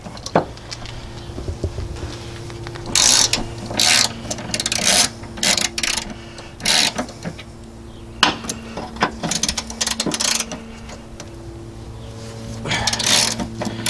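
Ratchet working loose the 14mm transmission mount bolts on a 2005 Toyota Corolla CE, heard as bursts of rapid clicking and metallic rubbing close up, broken by short pauses, over a steady low hum.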